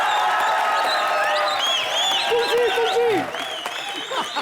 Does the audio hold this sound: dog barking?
no